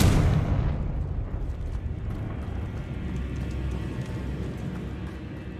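A Confringo blasting spell goes off in Hogwarts Legacy, a loud booming burst that fades into a long rumbling roar of debris and echo, with no talk.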